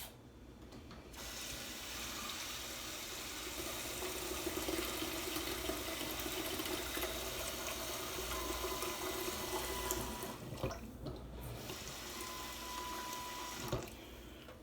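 Water runs steadily from a kitchen tap into a sink, a continuous soft hiss and splash that stops briefly near the end before flowing again.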